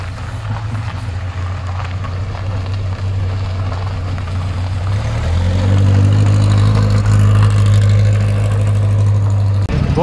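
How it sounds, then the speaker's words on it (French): A 110 Berlinette at a monthly car gathering at the Auto Sport Museum in Châtillon-Coligny rumbles at a steady idle, then its engine note steps up and drones louder as it pulls away, close by with no talk. "La 110 berlinette qui va s'en aller"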